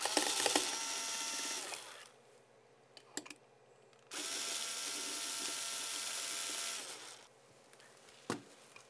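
A power driver tightens screws with sealing washers on a WatchMaster IP Elite camera's back cover, running in two sustained close whirring stretches with a few clicks and light handling in between.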